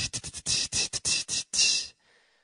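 Beatboxed open hi-hat made with the mouth, a quick string of crisp hissing bursts with stuttered short hits building into one longer sustained open hiss, then a faint tail; a voice imitating a cymbal, heard alone.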